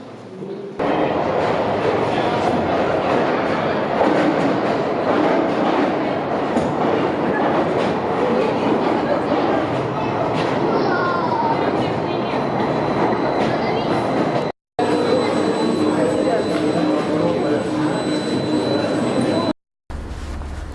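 Train running through the cave transport system in Abkhazia, a loud continuous rumble and rattle of wheels echoing in the tunnel, with faint squeals and short breaks.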